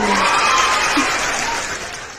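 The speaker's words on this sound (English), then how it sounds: "let me clap my own hands" A single person clapping their hands, a brisk burst of applause-like claps that fades out over about two seconds with no talk.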